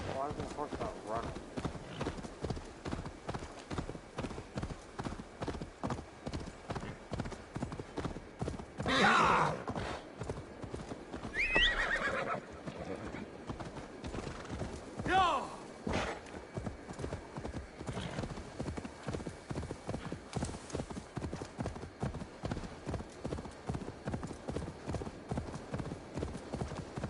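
Steady clip-clopping of a horse's hooves in Assassin's Creed Valhalla runs close and unbroken, joined by a few brief whinnies, while characters converse over the walking rhythm.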